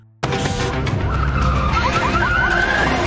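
A car in a movie chase bursts into sound and speeds off with a loud engine roar and squealing, skidding tires, close and sustained throughout.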